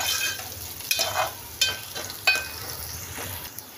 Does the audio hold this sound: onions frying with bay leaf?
yes